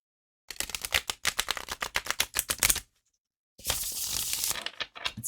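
A deck of tarot cards riffled rapidly, a dense run of crisp flutters, a short pause, then a second longer shuffle that ends with the cards squaring up.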